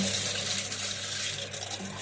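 Water rushes steadily through underfloor heating pipes just after a valve on the return line is opened, a continuous close hiss and gurgle with no voices.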